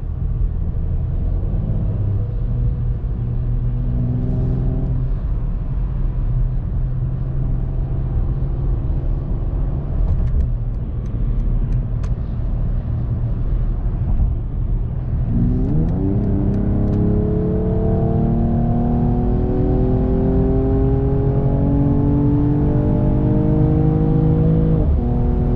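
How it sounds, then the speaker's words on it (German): A Mercedes-AMG CLS 53 4Matic+ with a six-cylinder engine drones steadily from inside the cabin, then pulls hard, its rising note climbing smoothly through the gears in a loud, continuous run. "Er hat ein sehr schönes Klangbild, meiner Meinung nach für einen Sechszylindermotor."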